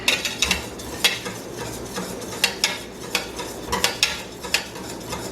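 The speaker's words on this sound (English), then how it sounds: "And I'm going to keep stirring the whole time" Orange jelly made from concentrate being stirred in a pot as it foams, a spoon scraping and clinking against the pot in irregular strokes over a soft bubbling sizzle, close and with no talk.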